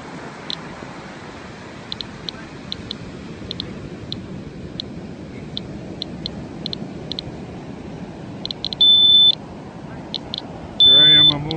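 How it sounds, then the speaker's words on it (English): Radiation detector alarm on a beach giving short, sharp high-pitched beeps at irregular intervals, with two longer sustained tones near the end, over steady low background rumble. "The alarm's going off."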